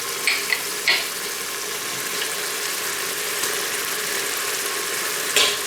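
Butter melting in a hot Instant Pot insert, a steady crackling sizzle with a few sharp metallic clicks and taps at the start and end.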